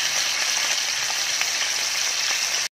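Milkfish (bangus) frying in a pan of oil, a steady close hiss and crackle that runs unbroken before cutting off abruptly.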